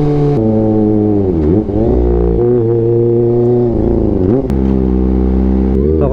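A 2023 Kawasaki ZX25R motorcycle engine revs close up and loud, its pitch climbing and dropping through several quick throttle blips over a steady, rough idle.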